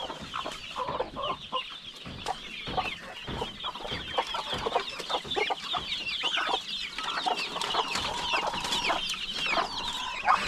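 Several hens cluck and chatter continuously, with faint high peeps from chicks mixed in, close by and busy throughout.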